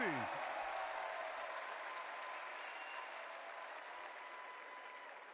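Crowd applause fills the arena at the CS2 Austin Major 2025 esports playoffs, a broad steady roar of clapping that holds loud throughout and eases off only slightly toward the end.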